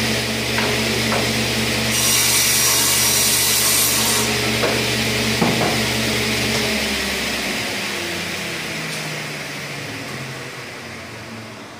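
Scrap pieces of 3/4 inch wood being cut down for spacers, a loud, close, continuous rasping saw stroke that fades out toward the end.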